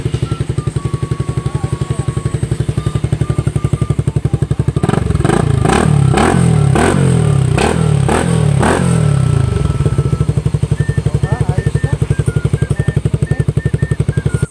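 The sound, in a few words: motorcycle revving with open pipe silencer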